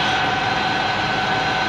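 A metalworking machine set up to cut titanium runs with a steady, loud, even whirring hum and a constant tonal whine, with no break.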